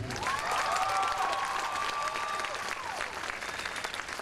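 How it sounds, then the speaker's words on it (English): A crowd at an outdoor equal-love rally applauds and cheers, steady loud clapping with a rising whoop or whistle running through it for a few seconds. "let's have another round of applause for Hannah Gadsby."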